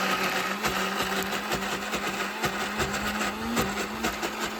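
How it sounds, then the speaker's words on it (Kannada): A kitchen mixer grinder whirs steadily as it grinds South Indian peanut chutney in a closed jar, a loud continuous motor buzz with faint periodic pulses and no talking. "ಇಲ್ಲಿ ಮಿಕ್ಸರ್ ಜಾರನ್ನು ಮುಚ್ಚಿಬಿಟ್ಟು ಇದನ್ನು ಪಟ್ಪಟ ಅಂತ ಗರ್ರ ಅಂತ"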